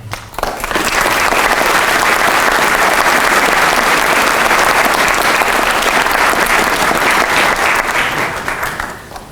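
Loud, dense applause from a large audience at a St. Louis County and Municipal Police Academy graduation, rising quickly, holding steady for several seconds and tapering off at the end.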